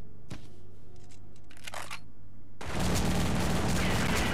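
Video game firing squad gunfire in The Suffering: a dense, loud, continuous volley of shots erupts suddenly after quieter ambient game sounds and scattered effects.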